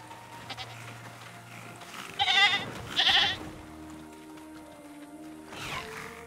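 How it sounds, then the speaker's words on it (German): A goat bleats in Jurassic World Evolution 2's Malta DLC, two loud strained cries in quick succession standing out over quiet game ambience and low hum, with a fainter call near the end. "Da hat die Ziege zurückgeschlagen."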